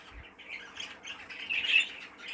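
A baby budgie squawks in a harsh, raspy, continuous burst, close and fairly loud, rising toward the end.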